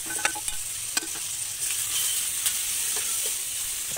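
Chicken pieces and green chili fry in a pan while being stirred. A continuous sizzle runs under sharp scraping clinks from the utensil, with no voices.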